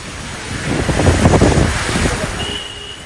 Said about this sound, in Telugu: దాదాపుగా అన్ని ప్రాంతాల్లో ప్రస్తుతం వర్షం పడుతుంది